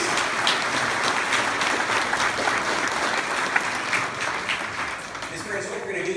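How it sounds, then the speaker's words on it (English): An audience at a community event on the opioid crisis gives a steady, moderately loud round of applause lasting several seconds, with light crowd murmur underneath. "give a round of applause, please"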